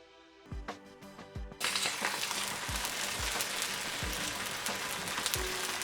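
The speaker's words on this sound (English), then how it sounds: "For a warm pan, I'm just brushing a little oil before placing my paratha." A paratha sizzles and fries steadily in oil on a warm tawa, a dense continuous crackle that rises abruptly after a few sharp taps and knocks, with no voices.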